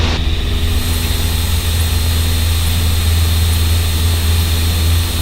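Cessna 172N single-engine propeller plane at full power on its takeoff roll, a loud, steady, droning engine roar with strong low hum and whining harmonics, continuous and close throughout, with no talking.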